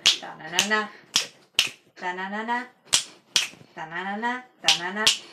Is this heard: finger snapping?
yes